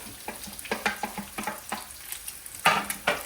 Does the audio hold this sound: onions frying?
yes